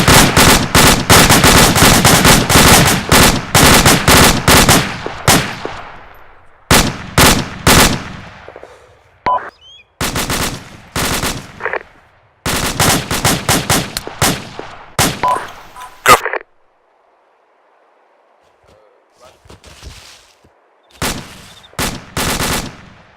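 Bursts of automatic gunfire and rapid rifle shots on a firing range, loud and close, coming in long sustained strings at first and then in shorter volleys separated by brief silences.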